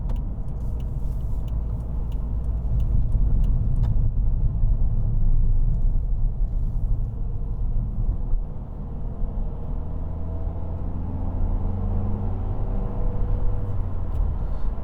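Steady low engine drone and road rumble from inside a 2016 Volvo V40 Cross Country D2 diesel as it drives along a dual carriageway, with a dip in tone near the middle, then a rising engine note.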